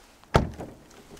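A rear door on a 2018 Volvo V90 T8 Inscription wagon is opened, giving a single solid, close thunk with a short fading rattle and no talking.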